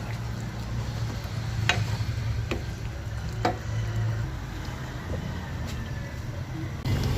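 Patola sautéed with sardines and misua noodles stirred in a pan, a steady low sizzle with a few sharp scrapes and clicks of the utensil against the pan.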